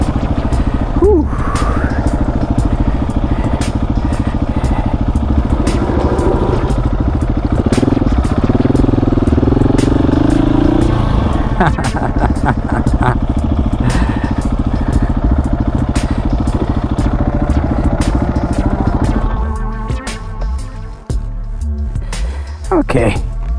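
A motorcycle engine drones and revs loudly throughout while wheelies are practiced, with wind buffeting and someone talking over it, the engine dropping toward idle near the end.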